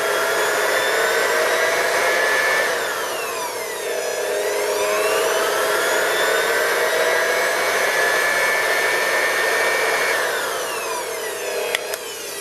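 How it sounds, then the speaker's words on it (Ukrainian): A hair dryer powered by a 12V-to-220V inverter whirs steadily with a loud, high-pitched motor whine that dips briefly in pitch and then recovers, running continuously without speech. "під'єднуємо ось таку вітродуйку"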